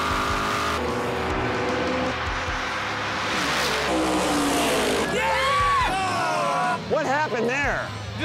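A drag race car launches hard off the line at a street-racing event, engine roaring loud and close with tire squeal and skidding, while people talk over it.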